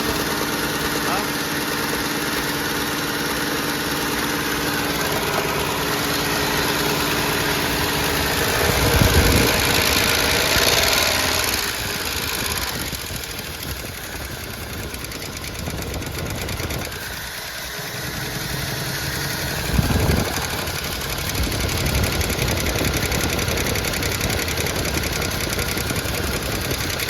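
A revived AMC Eagle engine idles steadily with noisy valvetrain clatter from the top end, a continuous rough rumble with small swells, while people talk nearby.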